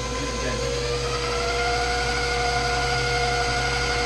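A KitchenAid stand mixer runs steadily, a loud continuous motor hum and whine with gear noise holding level throughout, close by and without speech.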